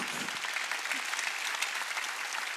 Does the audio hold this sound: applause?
yes